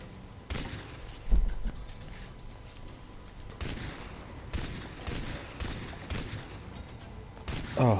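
Bursts of gunfire from the video game Far Cry 3 as a boar is shot, with repeated sharp shots in several clusters over steady background game noise.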